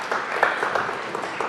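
Applause from a live studio audience at a rabbi's interview in a Talmud Torah hall, a short steady patter of clapping with a few voices faintly under it.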